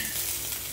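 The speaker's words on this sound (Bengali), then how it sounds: "এখানে মশলাটা ভাজা হয়ে গেছে, দিয়ে দিল জল।" Water hitting fried spices in a hot pan while cooking katla fish curry, a brief hissing sizzle, fairly quiet and steady.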